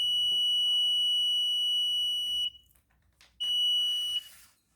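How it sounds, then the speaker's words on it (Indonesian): A shrill, steady electronic alarm tone from an LDR light-sensor alarm sounds, cuts out briefly, then buzzes again, loud and close over faint background noise. "apabila ada cahaya yang menghalangi cahayanya, maka alarm akan berbunyi seperti ini"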